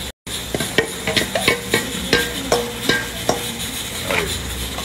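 Chopped onion and chicken pieces are tossed and stirred in a pan, giving a close run of rhythmic scraping knocks about twice a second over a soft sizzle.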